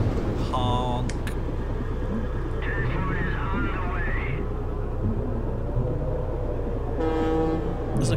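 A horn honks in the video game Atom Zombie Smasher, two bursts of a bright, multi-tone train-style horn at the start and near the end over steady game noise.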